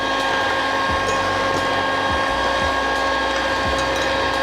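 An electric mixer whirs steadily and loudly through sponge cake batter as sugar goes in for a vanilla roll cake, a constant motor drone with faint rhythmic knocks of the beaters against the bowl, no speech.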